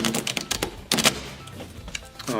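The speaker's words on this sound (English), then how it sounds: "Just having the spectator pick a card, they put it back on top, and then you start shuffling" Playing cards riffle and snap in quick flurries of soft clicks, close by, with a brief burst of louder flapping midway.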